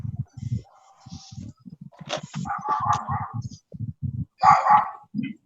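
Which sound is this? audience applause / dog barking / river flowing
dog barking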